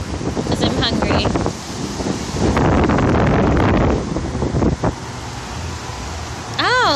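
Strong wind buffets the microphone outdoors in gusts, a loud broadband rush that swells and eases, with a person talking over it and brief high whistling tones near the end.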